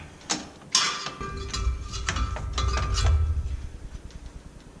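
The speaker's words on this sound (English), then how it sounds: "15mm on your tensioner pulley. Pop that belt right off." A wrench works the tensioner pulley on a 1995 Ford F150 4x4 to release the serpentine belt, heard as close metallic ratcheting clicks and clunks followed by a rumbling mechanical rattle as the belt slips free.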